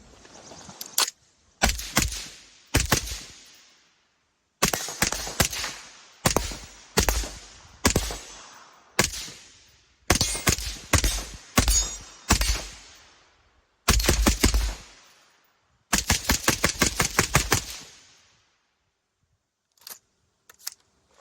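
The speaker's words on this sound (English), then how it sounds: "We'll fire another mag through it." A rifle fired through an AAC Ranger 5 suppressor, emptying a magazine in sharp, evenly spaced suppressed shots, some singles and a rapid closing string, each cracking loudly against quiet gaps.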